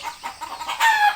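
A chicken gives a few short, close clucks, ending in a slightly longer squawk.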